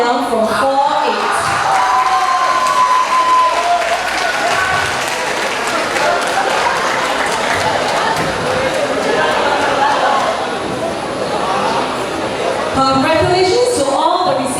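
A large crowd at a school graduation ceremony applauds and cheers award recipients with loud, sustained clapping and scattered shouts, and a voice speaks over it near the start and end.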